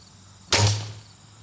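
One sharp crossbow release without string dampeners, a loud snapping twang with a short low hum of string vibration decaying afterward.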